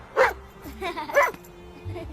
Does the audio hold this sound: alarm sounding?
no